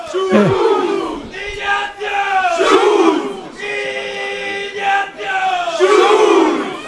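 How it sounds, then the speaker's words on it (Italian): Home supporters at a regional Eccellenza Veneto football match, Porto Viro against Vigasio, roar and chant after a goal by Schulz: loud crowd cheering in repeated surges and swells, with brief dips between chants. "è giustamente la tifoseria locale che festeggia questo gran gol di Schulz"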